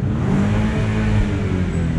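BMW Z4 engine revving in neutral, a loud, steady throaty roar that holds near and close throughout with no talk over it.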